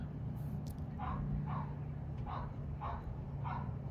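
A dog barks five times in a steady series at moderate distance, each bark short and muffled over a low constant hum, with no talking.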